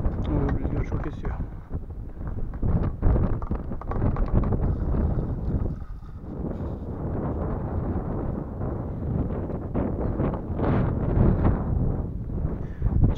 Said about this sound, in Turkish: Oo, rüzgar çok esiyor.